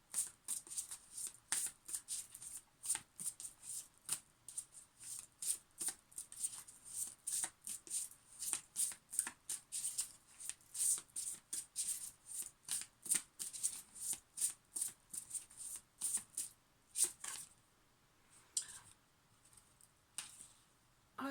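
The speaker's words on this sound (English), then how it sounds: "So I might pull a few cards from the Light Seers Tarot." Light Seers tarot cards are shuffled by hand in quick, repeated riffling bursts, a soft rhythmic papery patter that is close and quiet, with no talking, slowing slightly toward the end.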